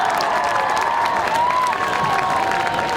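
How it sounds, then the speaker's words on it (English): A high school football crowd applauds and cheers for an injured player limping off the field, a steady wash of clapping and shouts from the stands, fairly distant, with no talk over it. "It's a nice hand from the crowd."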